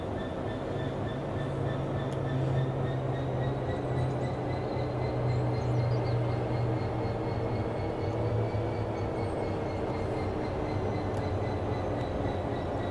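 A train in the Train Sim World 4 game pulls away after its brakes release, a continuous low rumble of motors and rolling wheels with a faint rising whine, steady and close throughout with no talking.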